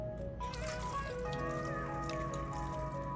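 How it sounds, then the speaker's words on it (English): Aloe vera juice poured into a blender jar, a steady continuous liquid stream gurgling and trickling close up for about three seconds, with no talking. "Next, I usually pour in my aloe vera juice."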